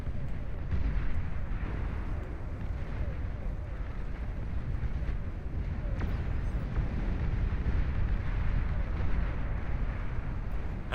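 Rumbling barrage of bomb explosions in a late-game strategy match with turrets, a dense continuous low roar of overlapping blasts throughout, loud and sustained with no distinct pauses.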